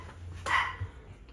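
One short dog bark rings out at moderate distance in a quiet room, a brief single yap with nothing else around it.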